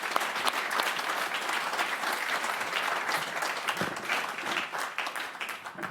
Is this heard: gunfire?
no